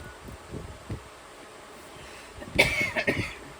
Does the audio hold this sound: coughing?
yes